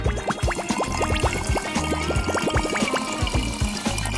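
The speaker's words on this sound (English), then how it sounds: "Now let's fill it up with water." Water poured from close up into a tiny bottle holding beads, a bright gurgling trickle with rising bubbly plinks and a few clicks, continuous for a few seconds with no talking.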